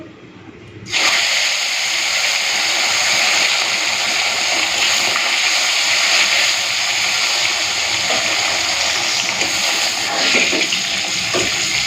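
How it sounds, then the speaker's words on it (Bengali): Parshe fish frying in hot oil left over from frying brinjal, a steady loud hiss and crackle that starts abruptly after a second of quiet and continues evenly throughout, with no talk. "ওই তেলে এখন পার্শে মাছগুলো ভেজে নেব"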